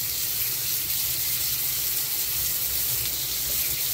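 Hot water runs steadily from a bathroom tap after being switched over, a continuous close hiss of flow with no pauses.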